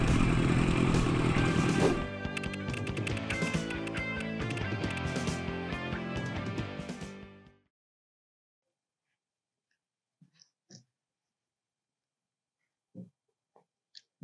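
A 1981 Kawasaki KZ1000J muscle bike gives a loud, dense engine roar for about seven seconds, then cuts out abruptly, leaving near silence with a few faint clicks and ticks.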